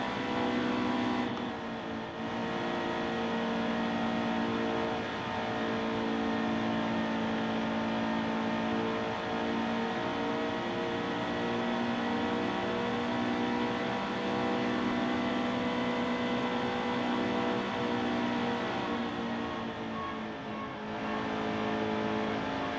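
Race car engines on a warm-up lap at Chicagoland Speedway in a NASCAR Xfinity Series game, a steady, loud, droning engine roar that holds for the whole stretch, with slight swells in pitch and no voices over it.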